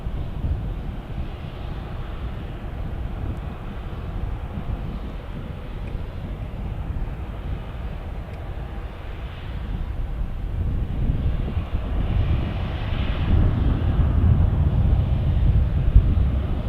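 An airplane departing Tucson airport, a broad low engine roar heard from a distance that slowly swells louder toward the end, with wind noise buffeting the microphone.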